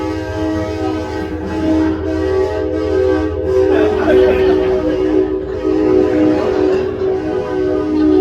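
A train horn blows long, steady sustained tones up close, with rumbling rail noise beneath and a voice speaking briefly over it.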